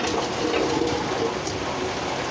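First summer rain comes down as a constant close wash of drops hitting surfaces, an even hiss with no voices over it.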